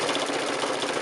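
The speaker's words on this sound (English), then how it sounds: "I'm just going to do a nice row of top stitching along here." A domestic sewing machine runs steadily, top stitching a line through several layers of quilting cotton on a hexagon origami mug rug, its close, even mechanical whir continuing unbroken and alone.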